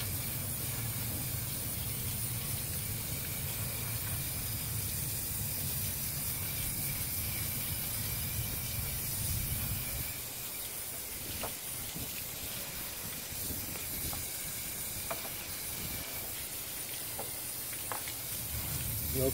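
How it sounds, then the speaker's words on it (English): A garden hose sprays water to rinse cleaned teak on a 1977 Boston Whaler 21 Outrage, a loud steady hiss for about ten seconds, then a thinner spray with a few knocks, with no talk. "Take the hose, rinse it off."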